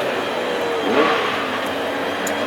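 A classic hot rod race car engine roars steadily and loudly at a Hednesford short-oval race final, swelling briefly midway under a continuous broadband drone.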